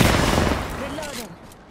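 Enemy gunfire in a shooter video game: a dense, loud volley of shots that fades out within a second, followed by a brief voice speaking.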